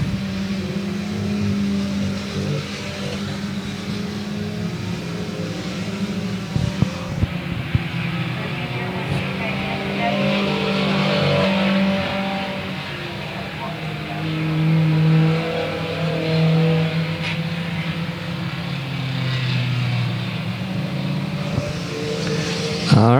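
Race cars at South Texas Speedway circle the track in a continuous loud drone, engines rising and falling as cars pass and work through slower traffic, with a steady roar that carries throughout.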